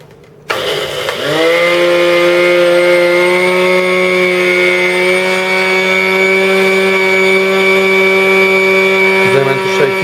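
A blender grinder runs at its highest speed milling sugar, starting with a sharp spin-up and then holding a loud, steady high-pitched whine with a buzzing edge for several seconds, close and alone.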